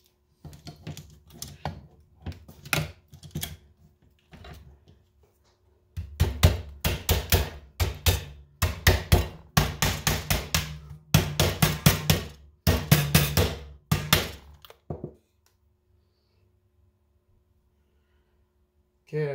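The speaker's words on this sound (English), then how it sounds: "tap on the sides a little bit to make sure that they're fully separated from the rivet heads" Hand tapping on the sides of a Toyota Highlander hybrid battery sub-pack to free it from rivet heads, heard as bursts of sharp metallic clicks and knocks in quick irregular clusters, close and fairly loud, ending in silence.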